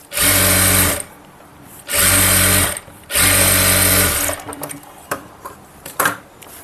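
Sewing machine stitching invisible piping onto blouse cloth, three loud close bursts of rapid mechanical chatter each lasting about a second, followed by quieter clicks and handling noise.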